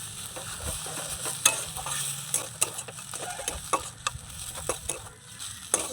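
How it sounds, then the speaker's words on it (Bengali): Chopped coriander leaves stirred into a cooked savory filling in a pan, a low continuous sizzle broken by frequent light scraping and tapping of the spoon. "ধনে পাতা কুচিটা দিয়ে নাড়িয়ে মিশিয়ে নিয়েছি"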